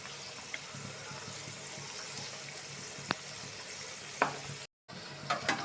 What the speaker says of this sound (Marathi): आपण काही मोमोज ना फ्राय करून घेऊ थोड्याशा तेलात, म्हणजे शॅलो फ्राय.